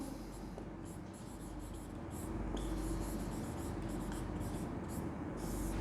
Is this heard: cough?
no